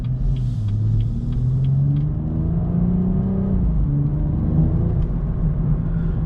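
A BMW M135i in sport mode heard from inside the cabin, a continuous low engine purr and road rumble with gently shifting pitch, steady and fairly loud with no talking.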